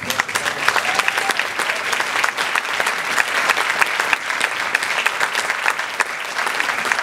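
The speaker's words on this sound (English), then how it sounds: "could we please give one more round of applause?" Many hands clap together in an audience's round of applause after a talk, a dense, lively sound with small surges in intensity, continuous across the whole stretch.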